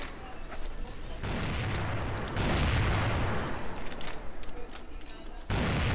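Gunfire from the CrossFire online shooter, including Barrett sniper rifle shots, comes as dense, continuous bursts and booms under a steady game background, with voices talking over it.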